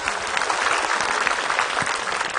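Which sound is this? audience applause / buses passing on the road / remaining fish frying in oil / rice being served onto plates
audience applause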